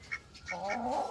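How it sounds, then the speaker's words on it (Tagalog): Ducks kept in a rural backyard quack in a short burst of nasal calls, a couple of brief quacks followed by a longer, louder run, close by with no talk over them. "At may pato pa tayo dito oh"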